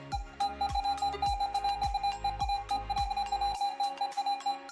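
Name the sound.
Garrett AT Pro metal detector tone in pro mode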